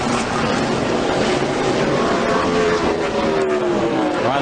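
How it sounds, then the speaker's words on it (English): NASCAR Craftsman trucks racing at night on a Memphis short track, a loud continuous engine roar with rising and falling pitch as the trucks pass, no talk over it. "let's see if we can take a look at the speeds at the line and see who is the fastest truck on the racetrack right now"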